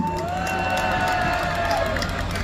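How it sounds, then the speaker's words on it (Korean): Rally crowd at an evening protest gathering in Gwanghwamun Square applauding and cheering to welcome a young speaker, a steady dense wash of clapping and shouts throughout with some voices mixed in. "청년 연사를 큰 박수로 만나보겠습니다"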